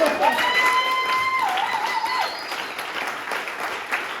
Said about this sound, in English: Give it up for Eeland. Give it up for yourself, Salmon